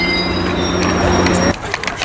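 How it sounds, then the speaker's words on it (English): A northbound Metrolink train bound for LA Union Station pulls into Fullerton station, loud and close, with a sustained metallic tonal squeal over heavy rumble that cuts off, leaving clattering wheels. "here comes the northbound Metrolink bound for LA Union Station coming into Fullerton"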